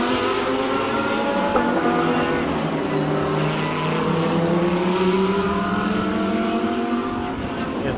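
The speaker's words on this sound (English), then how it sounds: "Goodsight at the wheel of the McLaren right now" Race cars in a sim racing game, a McLaren among them: loud engines whine and shift pitch continuously as the cars run close together, with faint tire noise.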